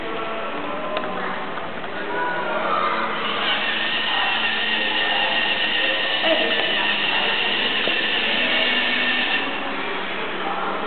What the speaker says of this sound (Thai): ไหนลองโชว์การทำงานของตัวรถตัดหญ้าหน่อยสิครับ